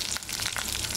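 Cumin, curry leaves and green chilies fry in hot oil for coconut chutney, giving a steady, dense sizzle with soft crackling pulses throughout, close and fairly loud with no talk.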